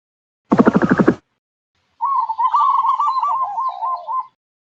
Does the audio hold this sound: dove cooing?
yes